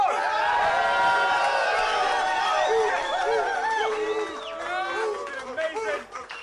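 A live crowd at a rap battle event cheers and shouts loudly, with many overlapping voices and whoops that stay strong before thinning out toward the end.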